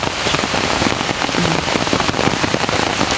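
Rain falling steadily and heavily on surfaces outdoors, a dense close patter with no pauses.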